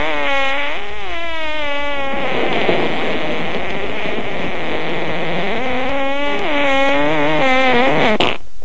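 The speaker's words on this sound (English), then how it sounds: "Gentlemen, that was a fart." A cartoonish fart sound effect, a long buzzing, wobbling tone that stretches for several seconds, loud and close with no talk over it.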